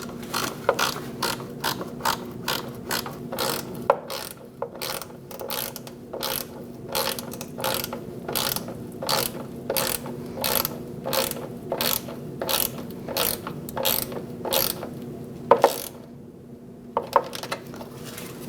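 A ratchet tightens fog light mounting bolts on a 2004-2012 Chevrolet Colorado, giving steady, evenly spaced clicking strokes close up, with brief pauses and a few sharper clacks near the end.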